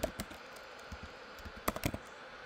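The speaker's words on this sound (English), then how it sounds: "we type a file name in here" Typing a file name on a computer keyboard: quiet, close key clicks in an irregular burst, with a cluster of quicker taps near the end.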